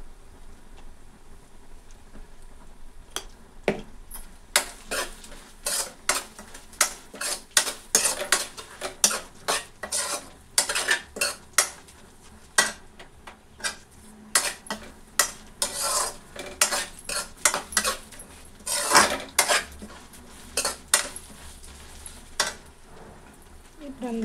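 A spoon scrapes and clinks around a pan as egg rice is stirred after a spoonful of turmeric goes in, irregular close scraping taps over a faint sizzle, with no voice.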